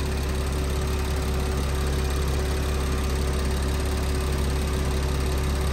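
An air conditioning compressor runs steadily while refrigerant is charged, a constant loud mechanical hum with a low drone and no change in pitch throughout.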